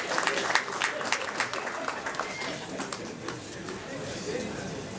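Applause from a crowd at the official opening of the ZITF trade fair, a steady spread of clapping with scattered louder claps mixed with crowd murmur and some speech-like sound.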